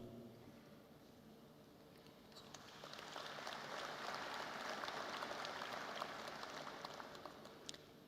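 Audience applause at the Kwibuka30 genocide commemoration ceremony, a dense, steady clatter of many hands that swells after a few seconds and holds, heard from within a large hall.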